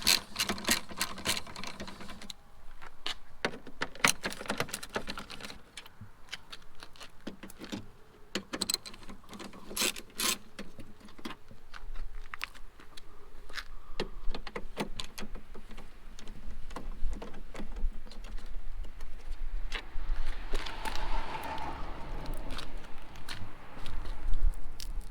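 Three 10 mm bolts coming off a Lexus RC F front bumper with a deep socket: a steady run of sharp ratcheting clicks and metallic ticks, close up, with no talking.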